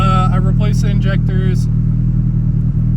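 Nissan SR20 engine in an S13 idling with a random misfire after new injectors, plugs and coil packs, a loud steady low rumble throughout, with a person speaking briefly over it near the start.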